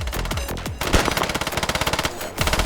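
Rapid automatic gunfire in the military shooter game SQUAD, several close bursts of rattling shots with a brief gap between them, loud and without talk.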